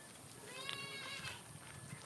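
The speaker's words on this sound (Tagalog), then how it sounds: "Si tatay sa kanyang kambing." A goat on a farm in Cabiao on the eve of a fiesta bleats faintly, with a wavering nasal call heard at some distance over steady outdoor background noise.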